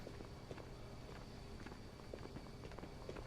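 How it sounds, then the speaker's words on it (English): Footsteps in the video game Ghosts of Tabor, a quick, even run of soft steps that carries on for several seconds, fairly faint and with nothing else over them. "I got footsteps to the left"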